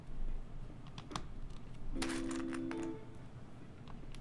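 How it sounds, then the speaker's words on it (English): Lego bricks rustle and clatter during a build of a Privet Drive model, a scatter of small plastic clicks with a brief sustained tonal blip in the middle, moderately close and without speech. "The sound of rustling Lego."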